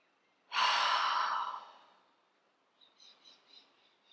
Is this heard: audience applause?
no